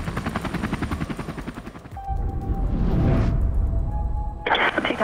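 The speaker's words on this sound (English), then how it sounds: "This is a chance for Cody and Jake to work on their communication with heli pilot Nicole Ludwig and spotter Chris Lee." A helicopter flies during backcountry short-haul rescue training. A rhythmic rotor chop thuds for about two seconds, then gives way to a broader rushing roar, and a sharp burst of noise lands near the end.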